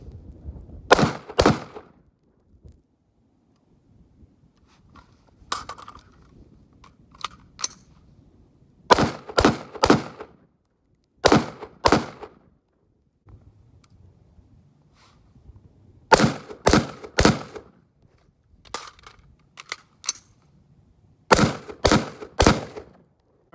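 Sharp, loud rifle shots at an outdoor shooting range, fired in quick pairs and small clusters separated by pauses for reloading, each crack close and distinct against quiet surroundings.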